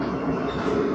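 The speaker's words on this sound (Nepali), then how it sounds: "ल हाम्रो यहाँको ट्रेन पनि आयो" A train pulls into a village station with a steady, close rumble of wheels and carriages rolling along the track, loud and continuous without pause.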